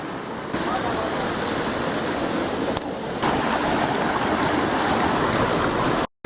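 Loud, constant rush of a waterfall and fast-flowing stream, a dense roar filling the scene, cutting off abruptly at the end.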